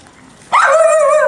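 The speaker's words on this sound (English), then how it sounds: "Looks like a guard dog there." A guard dog at a cemetery in the Philippines breaks a quiet background with a sudden loud, drawn-out bark that rises into a whining, yelping tone and holds to the end.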